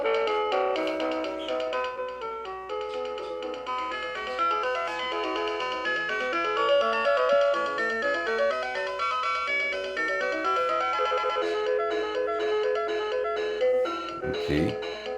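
A Tune-a-fish toy piano keyboard plays its built-in Jingle Bells tune, bright electronic tones stepping through the melody at an even pace, close and clear, with a brief knock near the end.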